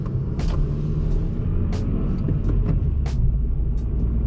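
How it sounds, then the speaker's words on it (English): A car with newly fitted shifter base bushings drives on the road during a test drive, giving a steady low rumble of engine and road noise with occasional brief higher swishes passing over it. "First on the road test with the new Shifter Base Bushings."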